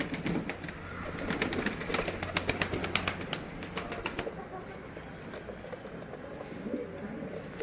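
Pigeons inside a box shuffle and flap wings at close range, with a rapid burst of fluttering followed by soft cooing and rustling.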